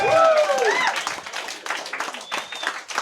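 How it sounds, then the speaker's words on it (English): A crowd at a rap battle event claps and cheers, a loud burst at the start then lighter scattered clapping, with a voice shouting over the noise early on. "Come on, clap your hands"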